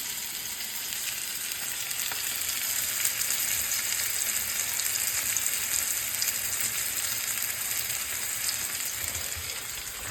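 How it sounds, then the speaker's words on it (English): Seasoned chicken sizzles in a hot greased pan, a steady, dense frying hiss that stays loud and even throughout, with no voices. "And it starts to sizzle as soon as you put it in because it's hot enough."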